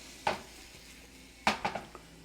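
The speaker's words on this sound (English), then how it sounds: "We're going to take another saute pan, frying pan, to cook our vegetables in." A metal sauté pan clanks against a hard surface, one sharp knock followed a second later by a quick cluster of three or four clattering bumps, close and alone.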